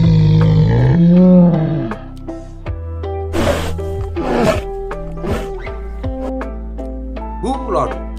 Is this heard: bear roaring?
yes